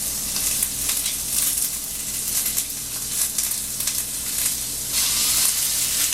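Garlic, ginger and dried herbs sizzle steadily in a hot pan as filling for pork and cabbage eggrolls, a continuous close frying crackle with occasional stirring scrapes and no talk.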